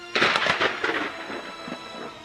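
A sudden heavy boom breaks out and rumbles on in rolling, uneven waves before fading, with no voices around it.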